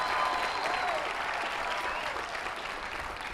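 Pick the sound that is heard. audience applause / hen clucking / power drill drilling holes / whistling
audience applause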